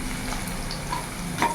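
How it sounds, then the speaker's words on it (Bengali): Chopped ginger and garlic fry in a pan over a medium gas flame, giving a steady close sizzle with faint stirring scrapes and no talking. "আদা কুচি, রসুন কুচি একটু ভাজা ভাজা করে নেব।"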